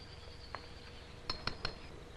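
Light taps on a hard glass-like object ring out as a single click followed by three quick bright clinks, faint against a quiet background hiss.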